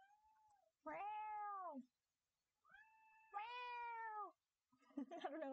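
A cat meows twice, long drawn-out cries close by, followed by a shorter, rougher vocal sound at the end.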